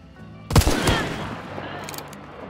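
Gunfire in the video game Hunt: Showdown with incendiary Sparks rifle ammo, one sharp, loud shot with a booming crack that fades into a long rumbling tail.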